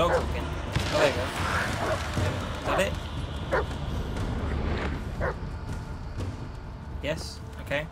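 In the Blair Witch horror game, a dog gives scattered barks and soft whimpers at moderate distance over a low droning ambience, with someone speaking intermittently.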